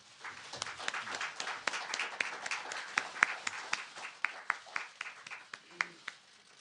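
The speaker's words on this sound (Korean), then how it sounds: "큰 박수로 맞아주시기 바랍니다." An audience at a Kwanhun Club debate forum applauds to welcome the emergency committee chairman to the podium, a steady patter of many hands with sharper individual claps standing out, fading toward the end.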